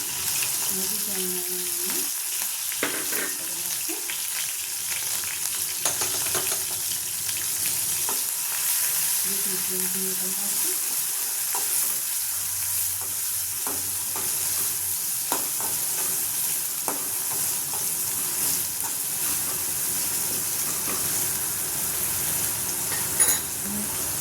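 Masala with ginger-garlic paste fries in a pan, a steady loud sizzle with faint stirring scrapes running throughout.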